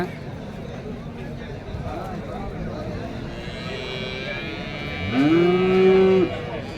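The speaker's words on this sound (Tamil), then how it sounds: "இவ்வளோ கிடேரிகள் கண்ணுக்குட்டிகள் வாங்கி கட்டியிருக்காங்க" Cattle, heifers and calves at a cattle market in Seenapuram, with a loud, drawn-out moo rising near the end over a steady crowd murmur and background talk.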